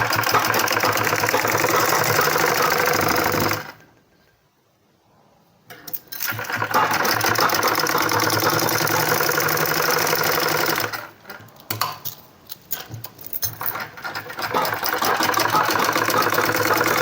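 A sewing machine stitches a 2–3 year baby boy's shirt with a steady, loud mechanical whir. It stops for about two seconds, then restarts in short stuttering bursts before running steadily again.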